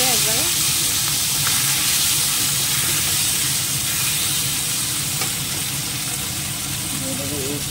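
A fish head with tomato fries in a pan, sending up a continuous close sizzle and spatter with faint stirring movements, while voices talk briefly in the background.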